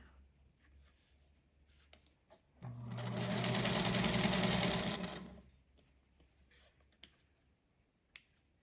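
A sewing machine stitches quilt fabric onto a small scrap for an autumn patchwork block, one steady burst of running lasting a couple of seconds, with light clicks and handling noises before and after.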